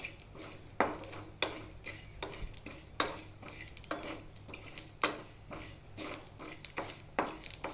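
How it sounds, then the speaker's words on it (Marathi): Whole spices including cinnamon, cardamom, pepper, cloves and bay leaf dry-roasting in a pan without oil, heard as soft rhythmic scraping stirs about once a second over a faint crackle, quiet and close. "दालचिनी वेलदोडा मिरी लवंग तमालपत्र हे सगळं एकत्र करून भाजून घ्यायचं आहे"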